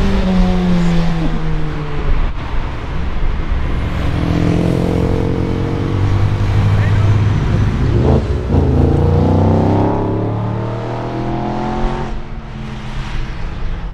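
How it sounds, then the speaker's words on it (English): A Porsche car engine heard while driving, loud and close with rising and falling revs through several gear changes, no talking. "I can hear a Porsche."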